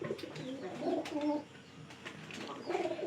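Pigeons in a coop coo in soft, repeated low phrases, close and steady, with faint rustling around them.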